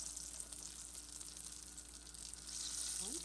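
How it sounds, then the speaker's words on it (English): Koose (akara) bean fritters fry in hot oil with a steady, close crackling sizzle that swells slightly toward the end. "You have to fry the koose in a hot oil"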